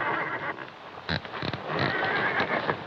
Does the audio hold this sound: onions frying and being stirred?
no